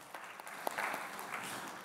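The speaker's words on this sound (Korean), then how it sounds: "박수 안 치는 친구들을 위해서 박수 보내겠습니다" Church congregation clapping during a Sunday service, a soft, distant, steady patter of many hands with a few sharper claps standing out.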